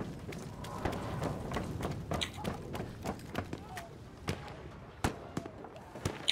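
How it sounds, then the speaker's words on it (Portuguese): Sharp, loud gunshot cracks from a sniper rifle in the Battlefield V shooter, several spaced bursts over dense battle noise and clatter, the later shots standing out more clearly against a quieter background. "Ouvir o sniper."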